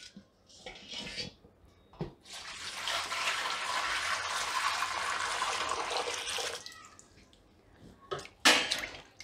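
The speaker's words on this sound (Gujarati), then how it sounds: "બીજું આમાં આપણે પાણી નાખી દેવું." Water poured over sliced potatoes in a kitchen vessel, a steady rushing splash lasting several seconds, framed by brief clinks and handling knocks of utensils, close by with no talking.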